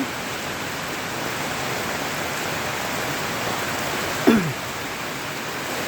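Rain falling steadily in Habiganj after a severe heatwave, an even hiss that continues unbroken throughout, with one brief sharp sound just past the middle.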